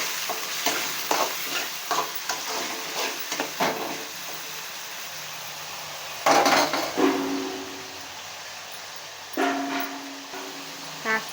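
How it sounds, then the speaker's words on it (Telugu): Tomatoes fry in a pan for a fish curry, with a continuous sizzle under repeated spatula scrapes and taps against the pan. Clusters of louder metallic clatter come and go. "తగినన్ని టమోటాలు గోల్డ్ కలర్ వచ్చే వరకు వేయించుకోవాలి"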